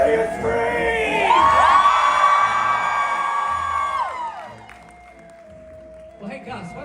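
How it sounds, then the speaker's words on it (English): A large crowd at a Knott's Scary Farm Midsummer Scream event screams, whoops and cheers loudly for several seconds, then the noise fades into scattered applause and shouts. "Let me hear you scream!"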